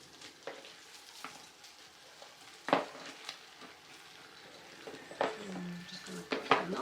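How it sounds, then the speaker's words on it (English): Two kilograms of diced beef frying in a pot over an open outdoor fire: a quiet, crackling sizzle punctuated by several scattered sharp pops and clinks. "I am going to put the 2 kilograms of beef, diced beef"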